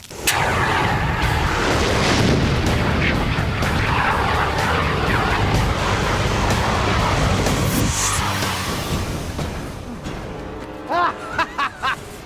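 A flamethrower blasts a long continuous roaring burst of fire at a person holding a fire extinguisher, loud and steady for about ten seconds before fading, followed by a few short bursts.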